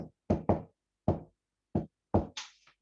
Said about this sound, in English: Then she heard a knock on the door upstairs.